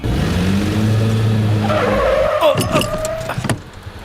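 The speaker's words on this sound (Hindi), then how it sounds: "गाड़ी क्यों रोकी?" A car skids to a stop as a film sound effect: a loud engine roar gives way to a sharp, wavering tire squeal of about two seconds that cuts off abruptly, leaving quieter background sound.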